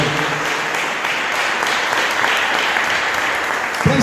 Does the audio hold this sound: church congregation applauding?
yes